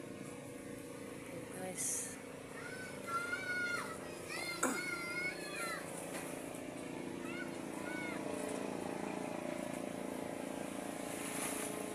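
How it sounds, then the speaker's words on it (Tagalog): A motorboat arriving from the open sea as it comes in to shore, its engine running as a steady low drone beneath lively talk and shouting people nearby. "Ayan po, padating na aking bangka."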